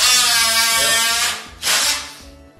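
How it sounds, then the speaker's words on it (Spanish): A handheld power tool cuts around a furniture leg on a wood floor being repaired, giving a loud, continuous buzzing whine that dips briefly and then returns before trailing off, with no talking. "Aquí le estamos cortando alrededor de la pata."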